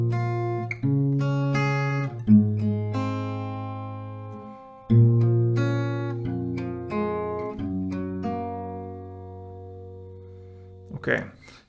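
An acoustic guitar plays the opening melody of a song, plucked notes ringing one after another over sustained low bass notes, clear and close with no talking.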